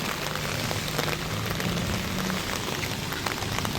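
Steady rain patters on a surface in Jaffna, a constant dense hiss with scattered drops, no voices.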